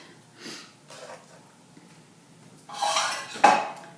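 Cooking pot lifted and handled after browning turkey for chili, with soft clanks early on, then a louder burst of metal scraping and a sharp clatter near the end, no talking.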